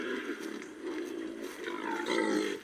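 A wild boar grunts and growls in low, rough bursts, loud and close, over the whole stretch with no speech.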